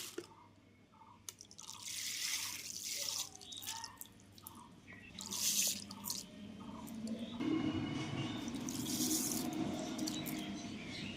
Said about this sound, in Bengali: ঠান্ডা জল অ্যাড করা হলো।